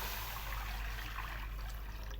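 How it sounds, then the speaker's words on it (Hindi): Water pours steadily into a cooking pot at the start of making mixed dal, a continuous close trickling and splashing rush with no break and no talking over it. "सबसे पहले हम पानी डालेंगे, एक बर्तन लेंगे"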